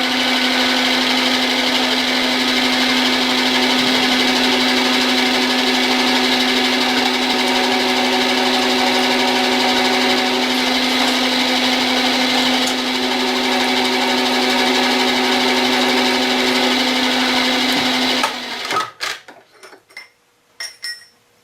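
A milling machine drills a through hole in metal, a steady loud mechanical whine with a constant tone running alone for about eighteen seconds before spinning down and stopping, followed by a few faint clicks.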